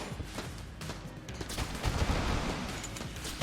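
Rapid bursts of gunfire from a gun in the video game Enter the Gungeon, a dense continuous volley of shots rattling loudly with no talk over it.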